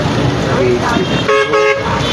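Heavy traffic crawls across Caldwell Bridge in Liberia, with car horns tooting and engines rumbling close by beneath someone talking throughout.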